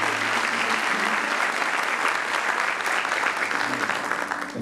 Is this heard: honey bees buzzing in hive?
no